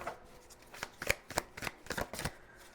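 Tarot cards riffled and shuffled by hand in a quick series of crisp, close flicks and slaps, about eight distinct bursts, with no talking.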